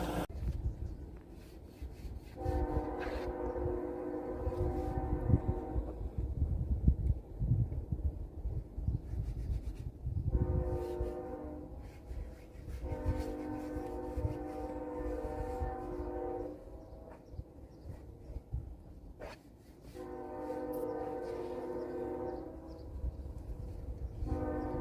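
An eastbound freight train draws near, its horn sounding in three long, loud sustained blasts separated by gaps, over a steady rumble of rolling wheels and engine.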